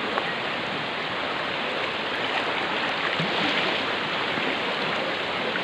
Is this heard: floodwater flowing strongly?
yes